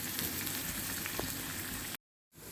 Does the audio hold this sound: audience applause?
no